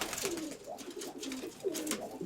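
Domestic pigeons coo softly in a backyard loft, a pair of low repeated throaty coos rising and falling in a steady rhythm, faint and close.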